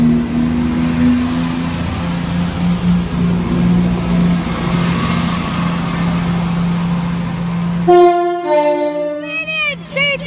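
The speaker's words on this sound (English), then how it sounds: "Passing through now is yet another Pendolino" A Pendolino electric train passes through Tamworth station, a loud sustained rushing roar with a whining tone that cuts off suddenly, followed by a short burst of chirpy electronic tones.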